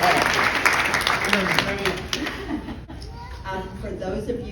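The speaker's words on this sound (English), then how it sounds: "How about a round of applause?" A gathering at a celebration of life breaks into a round of applause, moderately loud, dense clapping with a voice talking over it, fading briefly before picking back up.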